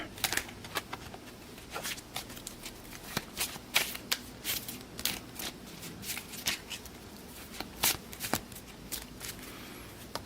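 A deck of cards gets shuffled in a tabletop boxing game, a series of crisp riffling bursts and snaps recurring every second or so, close and alone with no one talking.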